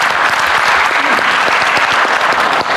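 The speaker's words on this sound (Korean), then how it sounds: "다시 한번 정은경 장관님께 감사의 박수 한번 부탁드리겠습니다." Loud, dense audience applause at a bio-innovation policy forum, many hands clapping steadily and close for the whole stretch.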